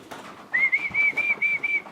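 Pigeons in a loft give a clear, steady whistling call that starts partway through and holds in short repeated pulses, close by, with faint rustling underneath and no talk.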